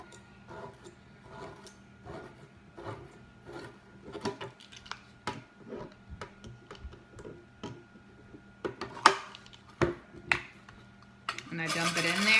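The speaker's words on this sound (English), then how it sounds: "And then I just open that can." A 28-ounce can of crushed tomatoes is opened with a can opener, making a steady run of close metallic ticks and clicks, followed by sharper clanks and a scraping rush of metal at the end.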